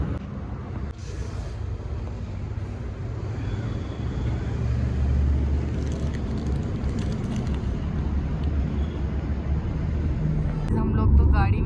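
Steady low rumble of a car driving along a road, heard from inside the vehicle on a family trip to Khatu Shyam temple, a continuous drone that swells slightly toward the end.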